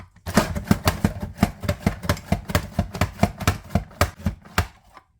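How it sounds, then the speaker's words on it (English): Onions are sliced for Mexican chicken wings, giving a steady run of about twenty crisp knife strikes on a cutting board, close and evenly paced, with no speech. "Okay, now I've got my onions sliced up and they're going in the pot."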